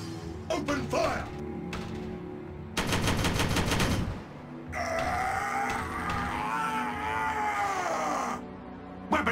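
Rapid machine-gun fire in a Warhammer 40,000 game, Dark Angels against Ultramarines, rattles in a loud sustained burst amid battle noise, backed by music and voiced unit callouts.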